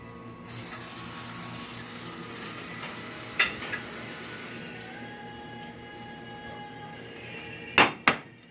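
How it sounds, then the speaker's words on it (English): Running tap water at a kitchen sink as a plate is rinsed after making Puerto Rican sofrito: a steady hiss of flowing water, a light clink midway, and two sharp dish knocks near the end. "Let me rinse this plate really quick."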